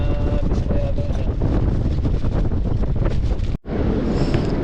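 Strong seaside wind buffets the microphone in loud, continuous rumbling gusts, with a brief dropout near the end before the blustering resumes.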